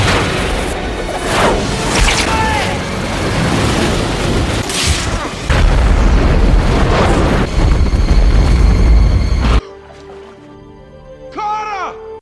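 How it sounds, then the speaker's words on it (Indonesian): A mutant shark is blown up in a Deep Blue Sea film scene: loud, sustained rumbling blasts and booming roar fill several seconds with dense mixed action sound, then cut to a quieter passage with brief sharp effects. "Koki Richard menembak hiu, lalu meledakkan hiu mutan"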